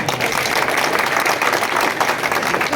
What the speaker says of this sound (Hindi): इनके लिए जोरदार तालियां बनती हैं।